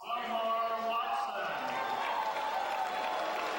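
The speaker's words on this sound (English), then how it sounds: "The crowd drowns out the name and everything." Wrestling crowd at a state championship match, a dense sustained roar of cheering and applause from a large audience, with voices mixed through the din.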